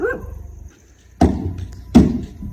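Two sharp, loud dog barks close by at night in a Pakistani village, roughly three quarters of a second apart, following a low murmur.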